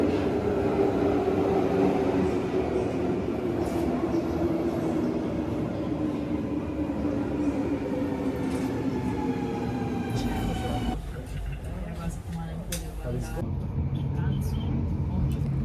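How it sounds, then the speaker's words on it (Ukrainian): A train arriving at a station platform in the Netherlands, a loud sustained rumble and descending electric whine as it slows, with squeals and a clunk near the end and voices in the background. "Прибуває наш потяг."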